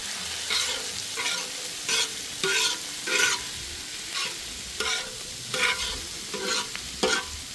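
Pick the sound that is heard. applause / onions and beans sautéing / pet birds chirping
onions and beans sautéing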